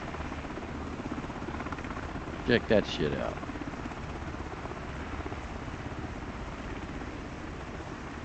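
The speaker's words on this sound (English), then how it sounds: "and then you get the downwash on top of the water under the helicopter" Helicopter hovering low over water, its rotor downwash churning the surface below; a steady broadband wash of rotor noise runs throughout while someone briefly speaks over it.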